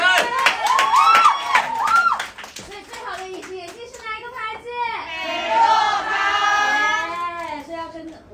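An audience claps at a promotional event, with sharp bursts of hands clapping mixed with lively voices and children talking over it.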